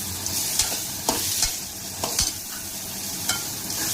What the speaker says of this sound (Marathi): तर लाल होईपर्यंत त्याला छान मस्त मी आता भाजून घेते